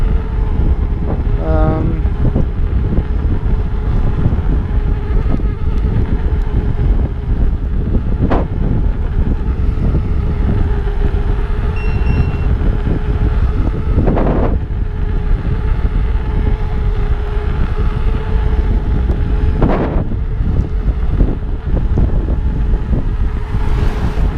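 Steady wind roaring across the microphone while riding a Bego around the Lizard coastal loop in Cornwall, a continuous loud rumble with gusty swells and no break throughout.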